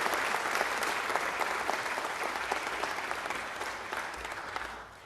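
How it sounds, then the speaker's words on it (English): An audience at an Italian American heritage celebration applauds the event organizers, a continuous even patter of many hands that tapers off softly near the end. "Let's give them a round of applause."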